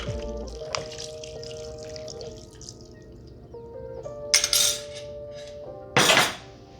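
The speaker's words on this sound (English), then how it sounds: "We're also going to go in with another 2 cups of water." About two cups of water are poured into a pot of udon broth, with short splashy bursts of pouring between clinks of pots and utensils in a kitchen.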